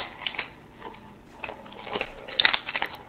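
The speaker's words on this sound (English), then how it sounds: "Yeah, we have a child chewing on a Doritos bag." Over Call of Duty WW2 game chat, a child chews on a Doritos bag. Close, crinkly crunches and bites come in uneven bursts, thickening toward the end.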